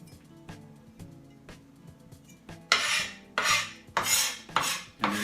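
A knife taps lightly on a cutting board while chopping garlic, then gives several loud, rasping scrapes across the board in quick succession, close up and with no talking.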